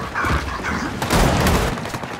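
Sharp gunshot blasts from the multiplayer Arms Race mode of the video game Gears of War 4, with heavy reports that peak in the middle of the clip amid loud game noise and no talking.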